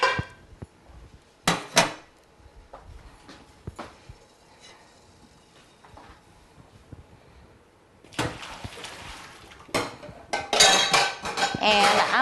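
Pots and pans clatter in a kitchen as cookware is shifted aside to start another pan, with sharp metallic clanks and clinks in scattered bursts, loudest and busiest toward the end, close by.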